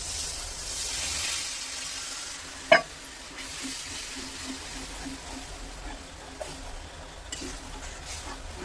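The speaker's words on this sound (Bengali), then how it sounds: "মশলাতে তেল ছেড়ে দিয়েছে, মশলা ভাজা ভাজা হয়ে গেছে। জল দিয়ে দেব।" Water hits frying spice masala in a pan for paneer masala, setting off a steady close sizzle and hiss with stirring scrapes and a sharp splash partway through.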